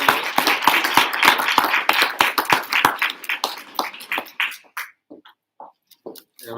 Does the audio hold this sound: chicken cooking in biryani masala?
no